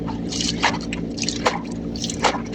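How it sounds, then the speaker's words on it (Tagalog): Clothes rinsed by hand in a basin of water squish and slosh, with wet dripping splashes repeating in a loose rhythm, close by and moderately loud, no speech. "Pag puno ng tubig, ayan, banlaw na naman."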